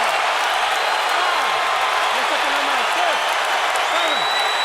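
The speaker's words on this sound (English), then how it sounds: "Crowd erupts in the Oracle Arena in Oakland as local hero Andre Ward delivers a knockdown in round 3." Arena crowd in Oakland's Oracle Arena roaring after a boxing knockdown in round 3 of Andre Ward vs Sullivan Barrera, a dense, steady wall of cheering and applause with scattered shouts, loud and continuous throughout.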